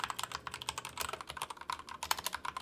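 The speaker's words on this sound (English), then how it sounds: "Now it's actually incredible with these keycaps when hearing the typing back to back." Rapid typing on a keyboard fitted with KDA profile PBT keycaps, a close, crisp flurry of clacky keystrokes in an irregular fast rhythm with no pauses or talking.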